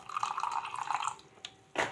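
Water trickles and splashes steadily into a mixer jar for over a second, then stops, followed by a brief clatter.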